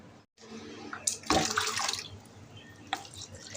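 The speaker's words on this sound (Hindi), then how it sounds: "इसमें थोड़ा सा पानी डाल देती हूँ।" Water poured onto potted plants makes a close, gushing splash that rises sharply and then settles into a softer trickle before a brief final splash.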